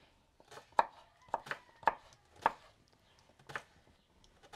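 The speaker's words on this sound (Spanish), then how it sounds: "ahora voy a rebanar la cebolla" A knife slices through an onion on a cutting board for a rustic ranch-style meal, giving five or six distinct crisp chops at uneven intervals, close and clear, with no talking.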